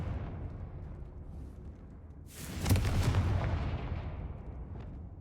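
Confringo fire spell exploding in Hogwarts Legacy: a single loud, booming blast hits midway and rolls off into a fading rumble over a low game background.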